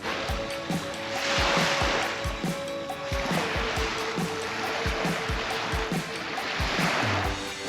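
Waves on a beach near Mulegé at sunrise roll in as slow, broad swells of surf noise. Soft irregular knocks and rustles sit close in the foreground, and no one speaks.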